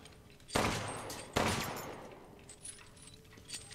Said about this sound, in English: Shoot that light.